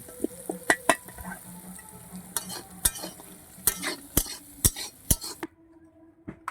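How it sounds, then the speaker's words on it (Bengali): Rice and potatoes frying in a pan, with repeated sharp scrapes and clinks of a spatula against metal over a low sizzle, closing in near quiet. "দেখুন এবার ভালো করে আমি চাল আর আলুটা ভাজা হয়ে গেছে"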